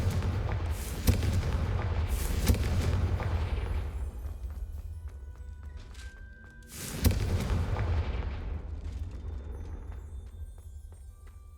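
Confringo fire spells detonating in Hogwarts Legacy, a few deep booming blasts with rumbling tails, loudest near the start and again midway, then fading.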